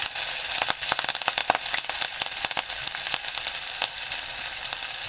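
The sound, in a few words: curry leaves frying in hot oil for dal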